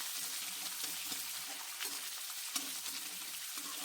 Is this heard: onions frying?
yes